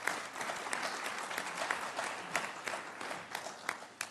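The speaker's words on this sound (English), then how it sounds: "Please give an applause for the Honorable Johnny Ford of the World Conference of Mayors." Audience at a business summit applauds with a steady patter of clapping, fairly soft and continuous, with a few sharper individual claps standing out.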